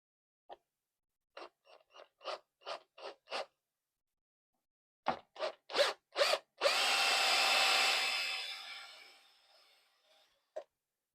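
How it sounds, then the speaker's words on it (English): An 8mm drill bit boring holes in a DIY robot hand finger part, first as a string of short even bursts, then longer pulses and one sustained run that slowly fades, ending with a single brief burst; close and clear with no talk. "So you want an 8mm drill."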